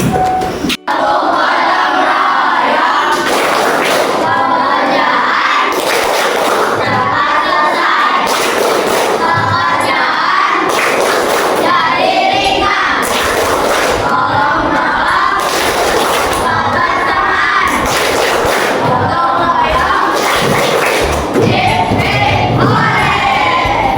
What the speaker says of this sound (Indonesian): Kita akan melakukan tepuk gotong royong.